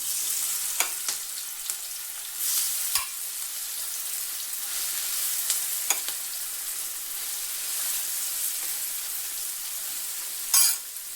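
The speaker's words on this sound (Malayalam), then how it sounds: "ഇനി നമുക്കിത് ഫ്രൈ ചെയ്തെടുക്കാം." Soya chunks frying in hot oil in a pan, a steady close crackling sizzle with occasional sharper pops and a brief burst of spatter near the end, no voices.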